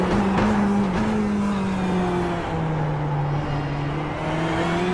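A Ferrari GT3 race car engine in the iRacing video game at Spa roars loud and close, a sustained buzzing drone whose pitch sags and dips slightly as it moves through the gears.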